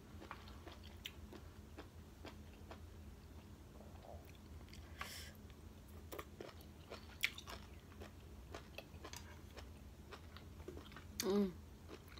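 Someone chewing boiled pork offal close to the mic, a steady run of soft wet bites and crunchy squishes over about twelve seconds, with a brief hum of voice near the end.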